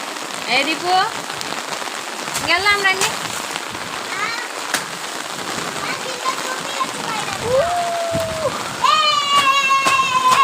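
Heavy rain pours down throughout, water running along the roads, with a constant wash of water and drops, while voices and birdsong chirp intermittently over it.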